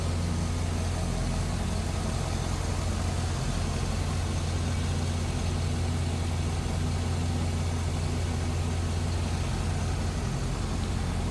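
The 6-liter V8 of a 2005 Chevrolet SSR idles steadily, a close, even low rumble with a constant hum and no voices.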